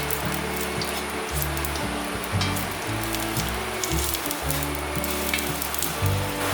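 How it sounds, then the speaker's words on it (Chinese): Ginger slices stir-frying in a little oil in a pot, a steady crackling sizzle that holds throughout at moderate loudness with no talking over it. "把姜片放入锅内， 把姜片炒至微微的变焦香。"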